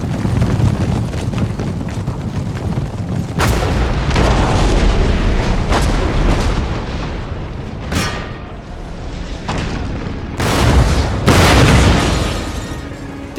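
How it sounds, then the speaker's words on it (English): Heavy booms of cannon fire in Empire: Total War burst out one after another amid a constant din of battle, some shots sharp and close. "I can get close to the cannons and wait for them to fire once more before charging."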